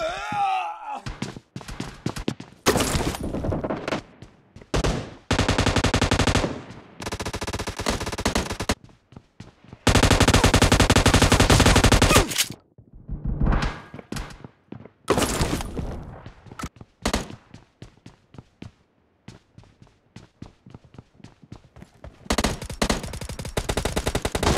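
Automatic gunfire in the hager gun game comes in long, loud, close bursts with short gaps and single shots between them, under occasional game voices.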